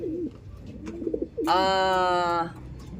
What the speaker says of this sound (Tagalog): So hindi pa nga tayo nakapagpakain sa mga ibon natin.